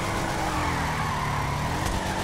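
A car in Grand Theft Auto 5 drives with a steady engine roar and tire noise at constant loudness, close and continuous with a brief squeal toward the end.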